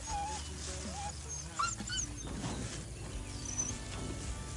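A dog whimpers and whines on a coconut plantation, with thin high cries rising over a low mechanical hum and scattered creaks nearby.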